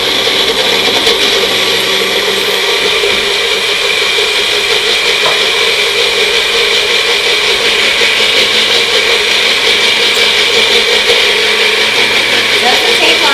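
A blender whirls a chai mixture in one loud, continuous motor roar that holds steady from start to finish with no pauses.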